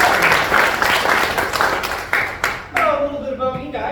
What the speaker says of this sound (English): Let's give a big round of applause to the bartender.